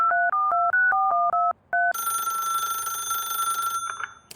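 Phone dialing in The Ratline video game: a quick run of about eight touch-tone beeps, then a steady ringback tone that fades away, loud and clear with no talk.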